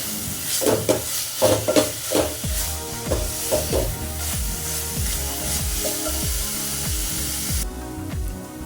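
Masala sizzles in a pan while being stirred and sautéed for Kolhapuri misal, with steady close frying hiss and a run of scraping strokes from the spoon, heavier early on and then easing off, with no talking.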